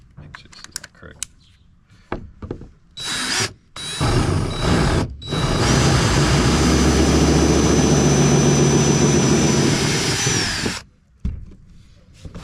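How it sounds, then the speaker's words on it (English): A power drill bores a 1-inch hole through a kayak hull with a loud, close, grinding whine that holds steady for about five seconds after a few short starts, and there is some handling noise before and after. "So I drilled a 1-inch hole right here, and then I put my grommet."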